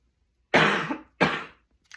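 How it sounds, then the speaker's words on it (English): Two harsh, close coughs in a row, each lasting about half a second, followed by a faint rustle. "Sorry about the coughs."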